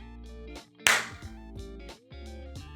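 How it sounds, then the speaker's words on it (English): One sharp hand clap rings out under a high ceiling in a room, standing alone against steady tonal background sounds. "you can almost hear an echo if I clap"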